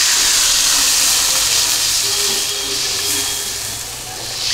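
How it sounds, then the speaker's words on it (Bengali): Water poured into frying spice masala of turmeric, chilli, cumin and coriander, giving a loud, continuous steamy hiss that fades slightly partway through. "এবার দিয়ে দেবো পানি"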